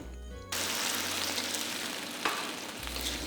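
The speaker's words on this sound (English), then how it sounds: "Give everything a good mix, and the gravy should thicken up in just a few seconds" Fish gravy thickened with cornstarch slurry being stirred in a pan for stir-fried fish, a sudden burst of steady frying sizzle after a brief quieter start, with a soft scrape partway through.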